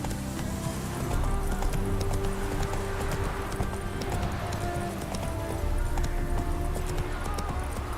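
Horse hooves clip-clopping in the video game Witcher 3, a steady rhythmic trot of hoofbeats running throughout over a low ambient game backdrop.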